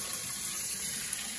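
Tap water runs steadily over red yeast rice in a colander, a soft, even, continuous rinsing hiss with no voices.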